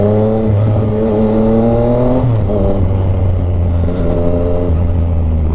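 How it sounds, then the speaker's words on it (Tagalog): A Tracer 900 sport-touring motorcycle with a slightly cracked, raspy exhaust rumbles close by, its steady engine note dipping and rising as the throttle is blipped, with no talk. "Medyo basag yung tunog ng exhaust."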